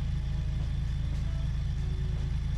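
A MAN Lion's City bus engine idles in The Bus simulator game, a loud, steady low rumble with an even throb that holds unchanged throughout, with no voices.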